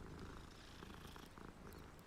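A cat in the Hogwarts Legacy video game purrs while being petted, a soft, continuous rumbling purr at low volume with a faint game soundtrack underneath.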